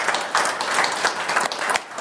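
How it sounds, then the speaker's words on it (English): An audience applauds the panelists at the close of a conference panel on open technology for EV charging, a dense, steady patter of many hands clapping for about two seconds with no talk over it. "if I could just ask the audience to give our panelists a round of applause."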